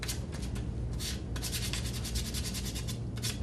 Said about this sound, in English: some sandpaper and go over it